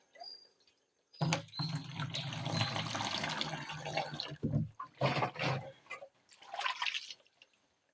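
Water from a large natural spring pours and splashes steadily for several seconds, then breaks into intermittent gushes and drips before trailing off.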